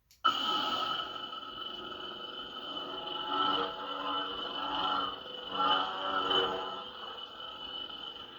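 A Kyberlight V5 lightsaber ignites with a quick snap, then settles into a steady buzzing hum that wavers and swells several times as it idles, faint and close with no talk.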